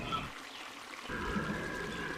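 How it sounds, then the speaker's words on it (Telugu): Heavy rain pours with wind during a thunderstorm in Hyderabad, a steady close hiss of falling water that swells louder after a brief lull, with no talking. "ఉరుములు, మెరుపులు, వర్షం, గాలి."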